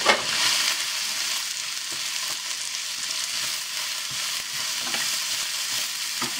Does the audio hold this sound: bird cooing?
no